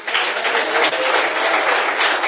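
A church congregation claps during a Portuguese-language sermon about Saul and David, the dense crowd applause filling the space steadily and loudly, with no voices rising above it.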